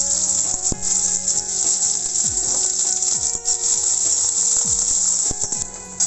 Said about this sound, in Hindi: अब हम डालेंगे कटा हुआ प्याज